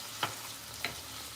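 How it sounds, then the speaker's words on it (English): Food being sautéed in a pan, with two brief utensil scrapes standing out over a faint, steady sizzle. "I'm going to saute it."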